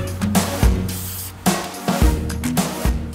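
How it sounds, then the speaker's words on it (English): Marking spray paint hisses from a can in several short bursts while a line is sprayed onto the ground outdoors, with clicks and shuffling between the sprays. "ran over that with the spray paint to give me a good line to work from"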